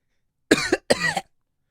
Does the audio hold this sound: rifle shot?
no